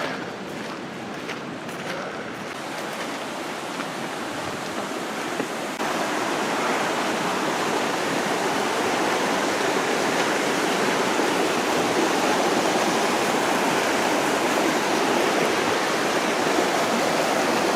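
A river flows through a forest at night in the United Kingdom, a steady broadband rush of water that swells louder partway through and continues unbroken, with no voices.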